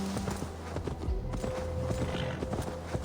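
Horse hooves clip-clopping in the video game Assassin's Creed Valhalla, a brisk, steady run of hoofbeats close and clear over a quiet music and ambience bed.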